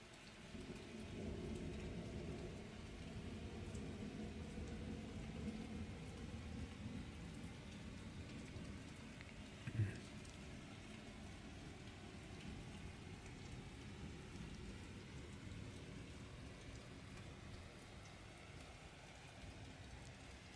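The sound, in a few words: heavy rain and thunderstorm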